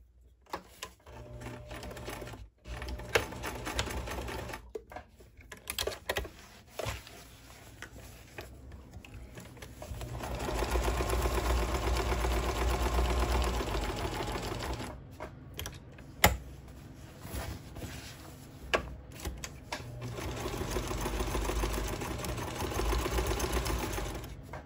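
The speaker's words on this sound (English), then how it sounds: "off to the sewing machine. Let's start sewing." A sewing machine stitches a velour banana leaf placemat, its needle chattering in fast close runs with brief stops for backstitching and repositioning, and the motor hum swells during longer passes.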